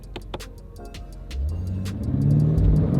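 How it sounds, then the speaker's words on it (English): Car doing a burnout in two-wheel drive with traction control off: sharp clicks and pops give way to a rising, growling engine rumble that swells louder toward the end. "So that was just a burnout."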